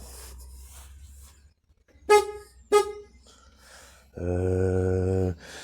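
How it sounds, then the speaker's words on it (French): An International 453 tractor horn sounds close by: two short honks, then one long steady blast lasting about a second, over a faint background hum. "Le klaxon aussi qui fonctionne"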